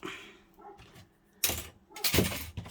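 A dog in a garden gives a few sharp barks at passersby, close by, separated by short pauses and soft background noise.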